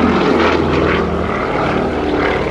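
Propeller aeroplanes of the Matadors display team roar past at an airshow in formation, a loud, continuous engine drone that stays steady throughout with no speech.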